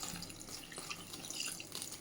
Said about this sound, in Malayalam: വെള്ളം കൂടി ചേർത്ത് കൊടുക്കാം.